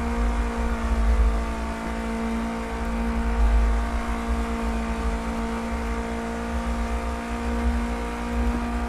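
A small 100-horsepower car accelerates at speed, its engine a steady droning hum with a strong low rumble and constant road and wind noise, loud and close throughout with no breaks.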